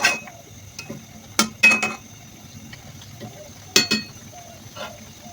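Curry stirred in a pot on a stove: a few sharp utensil clinks and scrapes come in short bursts with quiet pauses between them, and a faint simmer sits underneath.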